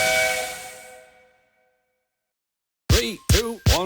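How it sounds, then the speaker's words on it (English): A steam engine in a Friday Night Funkin' mod lets off steam with a loud, whistling hiss that fades out over about a second. Silence follows, then three short, punchy tonal vocal-like notes. "Gordon the big engine let off steam and approached them out of his shed."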